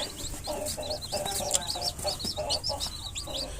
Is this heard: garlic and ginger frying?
no